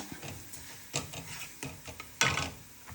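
Coriander powder stirred in a heating pan, a quiet series of close scraping and clinking strokes with a sharper scrape near the end, no talking.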